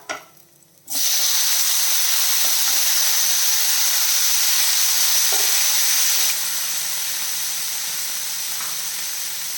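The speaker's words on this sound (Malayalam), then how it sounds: "തക്കാളി ചേർത്തിട്ട് നമുക്ക് നല്ല രീതിയിലൊന്ന് വഴറ്റിയെടുക്കാം" Chopped tomatoes sizzle loudly in hot oil with chillies as they are sautéed for a chutney, a steady frying hiss starting abruptly near the start and easing slightly later on, with no talk.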